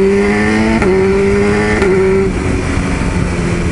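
A nimble motorcycle rides along with a loud, close engine drone that holds a steady pitch, then shifts up with two quick rev changes before easing off. No voices are heard.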